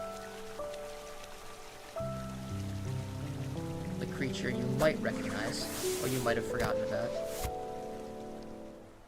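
Steady patter of the inky rain falling in the Hollow Knight video game, a soft continuous wash beneath layered game music, with a person talking over it throughout.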